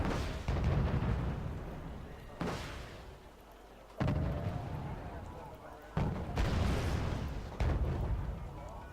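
Artillery in Wargame: Red Dragon fires in several heavy booms spaced a second or two apart, each a sharp onset trailing into a rumbling decay, moderately loud with nothing else prominent between.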